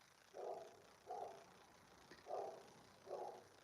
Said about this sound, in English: that's a neighbor's dog barking